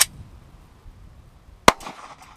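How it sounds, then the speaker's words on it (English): A 9mm pistol fires into a laptop: one sharp, loud crack with a short ringing echo, after a smaller click or snap at the start and quiet between. "I'm going to shoot one more time with the 9mm."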